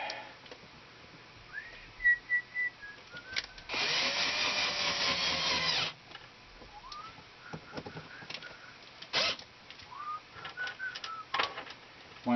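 A power drill drives number 8 by 1/2 inch screws into the soles of ice fishing winter boots in one steady burst of about two seconds, close and fairly loud, with quiet handling noises before and after.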